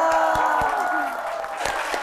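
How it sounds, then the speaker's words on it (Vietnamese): A TV show's studio audience applauds for a baby, a burst of crowd clapping and cheers rising under a host's voice. "Xin mời tất cả quý vị dành một tràng pháo tay cho em bé"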